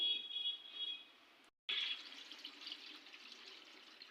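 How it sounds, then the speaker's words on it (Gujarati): Water runs from a tap in a soft, steady hiss that cuts out for a moment, then resumes a little stronger. "ફ્રેન્ડ્સ હવે ફૂલ આવ્યું પાણી"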